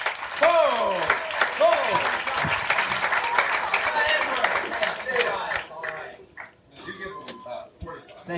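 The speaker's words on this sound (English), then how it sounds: "Let's have a nice big round of applause" A comedy club audience bursts into loud applause and cheering for the featured act as he takes the stage, a host's voice and shouts mixing in before the clapping thins out toward the end.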